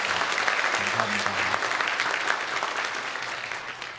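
A church congregation applauds during a Sunday worship service to welcome a returning family, producing dense, steady applause that fills the room at close range and fades slightly toward the end, with a faint voice briefly underneath.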